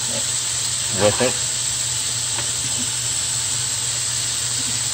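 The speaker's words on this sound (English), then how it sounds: "We're gonna add sliced garlic and we're gonna fry" Sliced garlic frying in olive oil makes a steady, close hiss and sizzle throughout, with a couple of brief clinks near the start and a voice speaking briefly.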